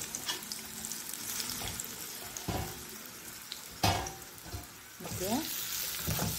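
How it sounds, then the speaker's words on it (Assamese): Pineapple pieces dropped into hot oil with the gas turned off, bursts of sizzling and stirring clatter under a brief spoken word. "এতিয়া মই আনাৰসখিনি তেলৰ ওপৰত দি দিম।"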